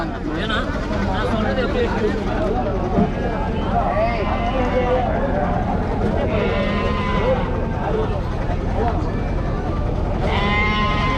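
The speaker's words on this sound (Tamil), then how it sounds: "இங்கே ஆட்டு சந்தை" Goat bleats rise now and then over a dense crowd murmur of voices at the busy outdoor Mattrapalli cattle market.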